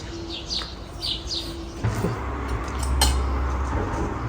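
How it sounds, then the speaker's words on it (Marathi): Several short bird chirps in the first two seconds, thin and fairly distant, then fading under kitchen clatter and a low background hum. "पक्ष्यांचा आवाज येतो सकाळी खूप छान वाटतं"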